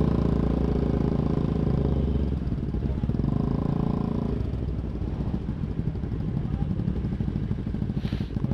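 Yamaha R25 motorcycle with a 250 cc engine running steadily during a daily ride, a continuous mid-pitched engine drone with some clatter, fairly close and even in level throughout.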